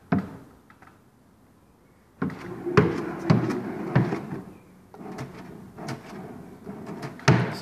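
A handleless bathroom vanity cabinet door with a strong spring push-to-open latch is pressed and released repeatedly, giving a series of sharp clacks and hollow wooden thumps at close range.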